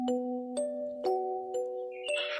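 A melodic electronic chime rings out in a series of bright bell tones, one strike roughly every half second, ending in a sparkling shimmer.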